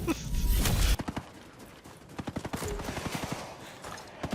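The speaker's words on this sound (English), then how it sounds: "Oh, they shoot rockets." Rapid bursts of gunfire with rockets firing in the video game Ghost Recon, sharp repeated cracks in quick volleys after a loud opening blast, heavy and close throughout.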